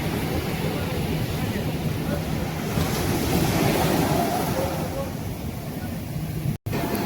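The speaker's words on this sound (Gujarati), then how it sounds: "મોજા કેવા નાના નાના ઉછરી છે મિત્રો" Small sea waves wash steadily along the shore on a calm day after a storm as fishing boats head out one by one, a continuous surf hiss mixed with wind rumble on the microphone.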